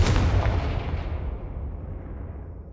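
A Confringo spell blast in the video game Hogwarts Legacy: a loud, deep booming explosion that hits at once and then rumbles and fades over a few seconds, with no voices over it.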